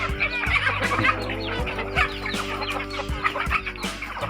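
Chickens peck at scattered food scraps and cluck in short, busy bursts, heard close over a steady low hum and scattered knocks.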